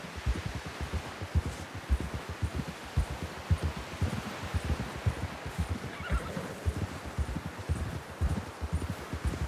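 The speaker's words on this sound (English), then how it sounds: "Someone help John down off this horse." Steady galloping hoofbeats pound throughout amid wind and rustling, with a horse whinnying partway through, in Red Dead Redemption 2; continuous and fairly loud.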